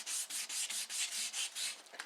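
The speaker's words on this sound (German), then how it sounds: "Der Füller wird jetzt nass mit feinem Schleifpapier." Filler on a Porsche 944 body being wet sanded by hand with fine 400-grit sandpaper, about nine even back-and-forth rubbing strokes in a steady rhythm, close and moderately loud, with no talk.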